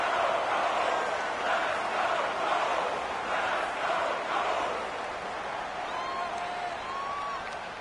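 Stadium crowd in a PS4 American football game roars steadily ahead of a big third down, a dense, sustained cheer with faint whistles and calls rising above it, no voice on top.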